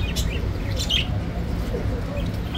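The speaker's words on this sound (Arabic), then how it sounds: "هاي طيور الحوض." Birds for sale at an animal and bird market in Baghdad chirp and tweet in brief, scattered calls over a busy crowd murmur, fairly close.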